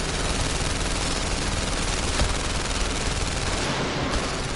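Rapid automatic gunfire in the VR game The London Heist, a loud, dense, continuous stream of shots with no pauses, close and alone, with no talking.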